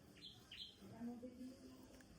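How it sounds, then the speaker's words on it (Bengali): Small birds chirp faintly in short high calls near the start, with softer low tones following, heard before dawn at about four in the morning. "তো পাখি ডাকছে"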